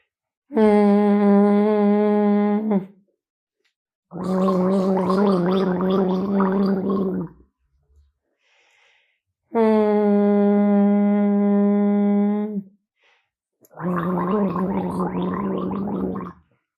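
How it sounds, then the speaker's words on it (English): Water gargled during a vagal toning exercise, with two noisy, bubbling gargles alternating with two steady, resonant hums. Each lasts a few seconds, separated by brief pauses, loud and close. "let's do 2 more cycles of hum, gargle, hum, gargle."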